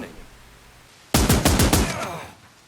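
Machine gun fire in the war game Last Train Home: after a second of quiet, a rapid close burst of roughly six to eight shots rattles out, then rings off into a decaying echo.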